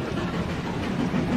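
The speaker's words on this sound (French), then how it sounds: "pourquoi il y a autant de trains qui se foncent dessus?" A Roblox train rumbles past loudly and close, a dense, continuous roar with faint clickety-clack texture throughout the short stretch.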